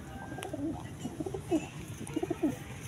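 Racing pigeons cooing softly in a loft, several low, throaty coos repeating irregularly at moderate distance over faint background ambience.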